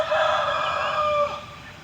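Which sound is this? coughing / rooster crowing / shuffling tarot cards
rooster crowing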